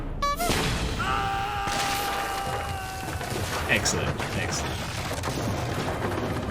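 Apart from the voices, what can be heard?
cannon firing in animated cartoon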